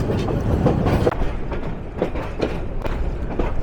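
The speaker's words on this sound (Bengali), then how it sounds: "কার্ভ নিয়ে ঢাকা স্টেশনে প্রবেশ করছে ডাউন জামালপুর কমিউটার এক্সপ্রেস" From inside a coach, the Down Jamalpur Commuter Express rounds a curve into Dhaka station, giving a loud low rumble with rhythmic clickety-clack wheel beats over the rails.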